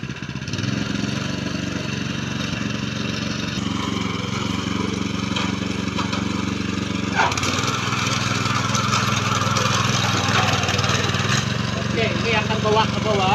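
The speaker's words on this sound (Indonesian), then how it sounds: "Jadi saya akan tunjukkan penggunaan mesin ini." Small engine of a mini cultivator plow runs steadily while working through mud in a paddy field with a rear leveller, a constant loud droning hum with some rattling throughout.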